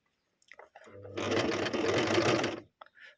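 A sewing machine runs a steady burst of stitching along a hem for about a second and a half, close and fairly loud, with a few soft clicks of handling before and after.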